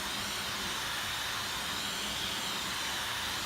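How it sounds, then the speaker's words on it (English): A hairdryer blowing steadily close by, a continuous airy whoosh with no change in level and no voices. "it's just a quick video just to show you what it's like with a hairdryer"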